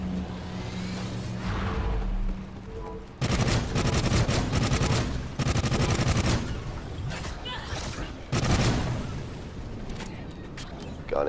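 Rapid automatic gunfire from a 45-round rifle in Call of Duty Ghosts Extinction, bursts of loud sustained shooting separated by brief pauses, with game ambience between volleys.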